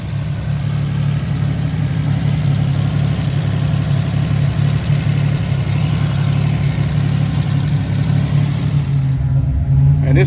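Buick Grand National engine idling steadily with a low, even rumble, close by and unchanging, with faint background noise.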